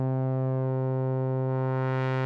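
A hard-synced oscillator in the Drambo synthesizer app holds a steady, buzzy tone rich in harmonics, with the upper overtones brightening and sweeping as the synced pitch changes near the end.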